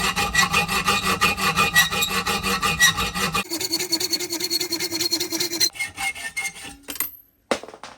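A Parkside oscillating multi tool cutting through a welded L bracket, a harsh continuous buzzing rasp that shifts pitch as the blade bites, close and loud before tapering off near the end.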